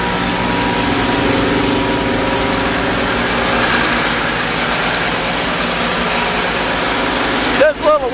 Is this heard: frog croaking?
no